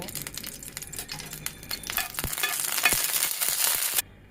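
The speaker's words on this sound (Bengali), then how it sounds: "এখন এখানে অল্প পরিমাণে একটু তেল দিয়ে মরিচটা একটু ভেজে নেব" Chilies frying in a little oil in a frying pan for a cauliflower mash, a busy crackling sizzle with scattered pops and utensil clicks, growing louder and denser before stopping abruptly near the end.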